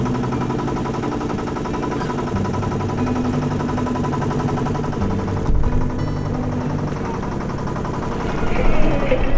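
A boat engine drones steadily on the Ganges along the ghats of Varanasi, India, a constant mid-pitched rumble with a brief bump partway and slightly louder near the end.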